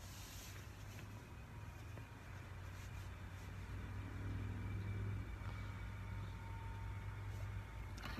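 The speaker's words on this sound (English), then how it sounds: "Someone's pulling up outside the workshop now" A car pulls up outside a car-detailing workshop: a low engine rumble swells through the middle and eases off near the end. It stays fairly faint and steady against a background hiss, with no talking.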